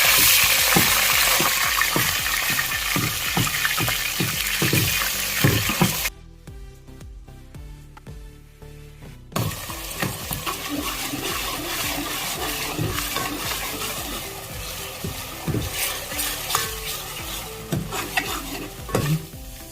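Roasted coconut paste and onion paste sizzle loudly in a pan while being stirred for a spinach chicken curry, with scraping strokes throughout; the sizzle drops sharply for a few seconds midway, then resumes steadily.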